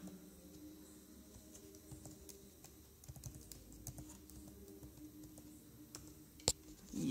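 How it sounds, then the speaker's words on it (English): Keys tapped on a Mac keyboard while a password is entered, a steady run of soft, close clicks at low level with no one speaking. "Type your secret password."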